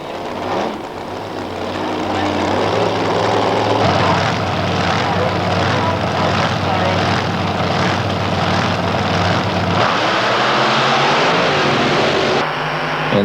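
Drag race cars roar at high power on a heads-up run, one fitted with an all-aluminium Keith Black Hammer drag engine, a loud sustained engine blare with shifting pitch and a commentator talking over it.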